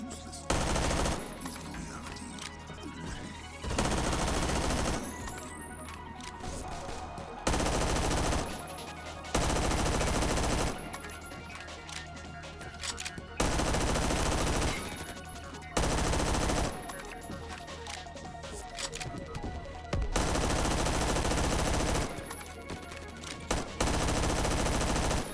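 Colt SMG fired in a video game with armor-piercing rounds and a long barrel: repeated loud bursts of automatic gunfire, several sustained strings of rapid shots separated by short pauses, close and dominant.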